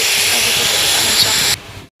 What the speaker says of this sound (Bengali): এখানে হচ্ছে আলু ভাজা